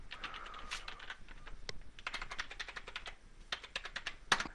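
Close, quiet clatter of a computer keyboard as a username and password are typed, irregular bursts of keystrokes with short pauses.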